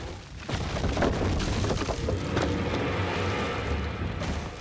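A gunshot in the video game Alan Wake lands as a booming burst, followed by a loud, rumbling wash of game noise that stays sustained to the end.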